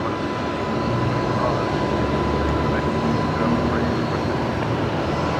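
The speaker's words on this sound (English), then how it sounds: "we got Jetstar 825 rolling now, heading down to Sydney" A Jetstar airliner on flight 825 to Sydney rolls down the runway at Brisbane Airport for takeoff, a loud, steady broadband engine roar that holds through the whole stretch.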